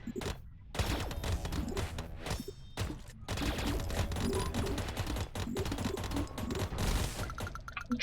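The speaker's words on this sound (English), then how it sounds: "But we got our chain gun back anyway." A chain gun fires in the Idle Space Rock Breaker video game, producing dense, rapid rattling bursts that run almost without a break, with brief pauses between strings of shots and no talk over them.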